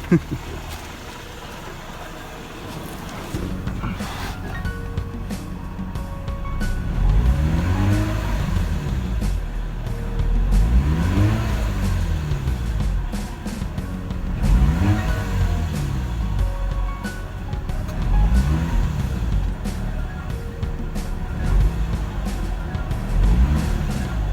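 Rotary engine of a high-mileage Mazda RX-8 R3 revved repeatedly to mid-range, five or so rising and falling sweeps at a steady pace over a rough idle, heard close.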